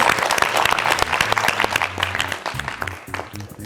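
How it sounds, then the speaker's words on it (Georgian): Audience applause for team Logos at a Georgian book quiz game, a dense run of steady clapping from a studio crowd that gradually thins and fades toward the end, with no talk over it. "აპლოდისმენტები კიდევ ერთხელ ლოგოს."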